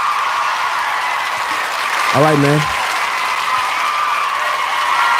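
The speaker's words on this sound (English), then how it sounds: "y'all give yourselves a round of applause" Podcast guests give a round of applause, clapping continuously at moderate loudness, while a voice briefly speaks over it midway.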